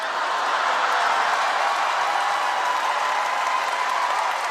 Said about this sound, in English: Why are we clapping?